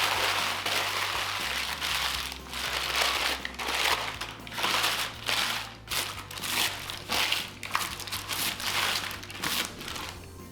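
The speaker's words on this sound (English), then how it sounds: "If you're using parchment paper, crumple it up." Parchment paper is crumpled up by hand for baking cookies, producing close, loud crinkling and crackling in irregular bursts with brief pauses, and no talking.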